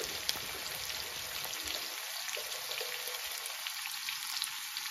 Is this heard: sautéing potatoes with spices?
yes